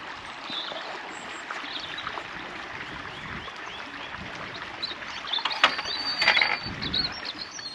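A steady mechanical whir and rattle of a water power generator runs beside rushing water on Marsden Moor, with a few louder clanks near the end and faint birdsong in the background.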